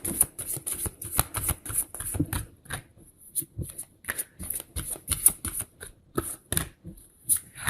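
Doreen Virtue tarot cards shuffled by hand at close range, a steady run of quick riffling flicks and soft slaps in irregular bursts, with brief pauses between handfuls and no talking.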